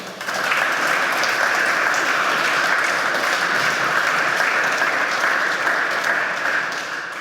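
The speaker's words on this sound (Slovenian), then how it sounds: "Vabim vas še k enemu športnemu aplavzu" Applause for a sports club at a formal municipal council ceremony, dense sustained clapping from a large audience that starts quickly, stays loud and even for several seconds, then eases slightly at the end.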